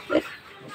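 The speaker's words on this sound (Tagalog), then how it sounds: "The native nga baboy na to ni Kuya Flex." A native pig gives one short, nasal oink up close, followed by faint background noise.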